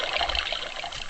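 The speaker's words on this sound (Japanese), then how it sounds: "水の音が出たと思うんですけど、今回はそれを使います。" Water sound effect used in a playful musical performance, a steady trickling, dribbling flow heard close and continuous for about a second with no talking.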